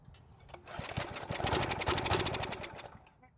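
A small gas engine on a Troy-Bilt edger sputters and catches, its rattling buzz building quickly and running briefly before fading out.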